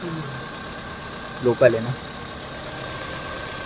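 A car engine idles with an unwanted noise in it, a steady low hum running throughout while someone briefly speaks in Hindi partway through.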